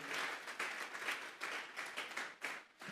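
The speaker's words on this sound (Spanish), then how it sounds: "Vamos a darle una ofrenda de palmas a Dios en esta tarde." A church congregation claps together as an offering to God, a fast rhythmic run of hand claps, faint and somewhat distant, in short surges.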